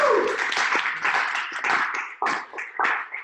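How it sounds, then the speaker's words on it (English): A few people clap for Matt in a small room after a test automation demo, sparse and uneven claps with gaps rather than a full ovation. "I'd say let's give Matt a round of applause."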